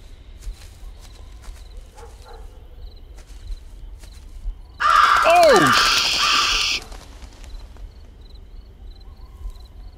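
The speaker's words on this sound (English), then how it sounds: "Damn crows." Crows caw in the Paranormal Activity VR video game, a short loud burst of harsh calls in the middle, set against faint ambient game noise.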